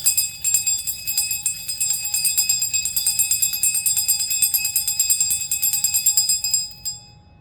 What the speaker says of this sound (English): So this bell is made out of a singing bowl